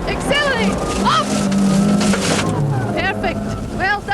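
A car is driven hard on a track, its engine note rising under acceleration while an instructor shouts commands over it, the revs climbing and dropping as gears change.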